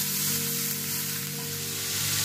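Shredded cabbage sizzles in a hot pan, a loud, steady, close hiss of frying that stays even throughout with a faint underlying hum.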